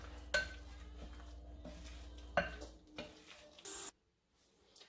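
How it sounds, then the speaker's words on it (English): Spoon folding flour into a shrimp egg foo young batter in a bowl, a few soft scraping strokes punctuated by sharp clinks of utensil against the bowl, quiet and close, then silence. "we're gonna put some more flour. Yes. And fold it gently"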